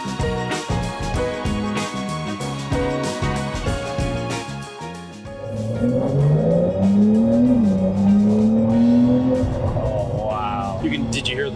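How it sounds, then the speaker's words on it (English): A turbocharged 2022 Porsche 911 Carrera Cabriolet engine revs hard and accelerates, pitch climbing through the gears with a loud, close roar. "Did you hear the turbos?"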